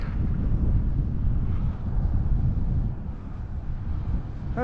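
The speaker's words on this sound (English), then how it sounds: "now guys, we are pedaling right into the wind" Wind rushes over the microphone while a cyclist pedals into a headwind, a continuous low roaring buffet that swells and dips slightly without any voices.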